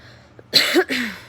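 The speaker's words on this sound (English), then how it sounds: "Oh, it hurts to cough." Two close, raspy coughs from a nearby person, the second slightly weaker, with a faint breath before them in an otherwise quiet room.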